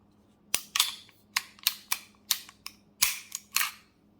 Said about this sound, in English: let's go ahead and take this pistol apart as well